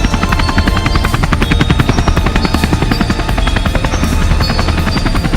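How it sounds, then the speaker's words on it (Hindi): A helicopter arrives in an animated horror story, its loud, rapid rotor chopping pulsing steadily and close throughout, with a constant engine whine beneath and no speech. "अरे ये क्या, ये तो हेलीकॉप्टर है"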